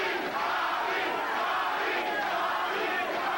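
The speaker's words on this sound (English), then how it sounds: "The crowd roaring its approval for Bobby Chappy Czyz and a great exhibition of inside fighting." A boxing crowd roars steadily through a light heavyweight bout between Bobby Czyz and Murray Sutherland, a loud, sustained wash of cheering with no breaks.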